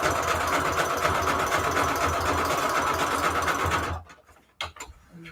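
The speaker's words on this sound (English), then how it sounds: "that's where I'm sewing" Sewing machine stitching junk journal signatures, a steady fast whirring drone for about four seconds before stopping, followed by a few brief clicks and taps.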